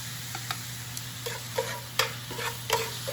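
Shrimp, garlic and Big Fork Bacon sausage with a splash of Worcestershire sizzle in a cast iron skillet, a steady fry hiss with repeated scraping strokes as the pan is stirred, close and alone.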